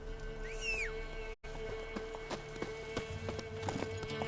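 Roach the horse in The Witcher 3 video game gallops with a steady run of hoofbeats, briefly broken by a short gap, with a whistle-like cry early on and ambient game sounds behind.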